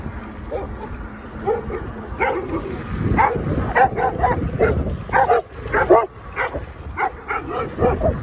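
Several dogs bark and yip repeatedly while chasing an Ecotric fat tire e-bike in cold weather, close and excited, over steady wind and riding noise.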